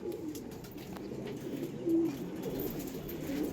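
Pigeons kept in a rooftop loft coo softly from a modest distance, a low, rolling murmur over faint outdoor background noise, with one clearer coo partway through.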